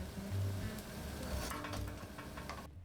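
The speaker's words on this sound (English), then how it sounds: "Flip them and fry for about 3 more minutes" Chicken and turmeric samosas frying in hot oil, a close, steady crackling sizzle that runs continuously with light bubbling throughout.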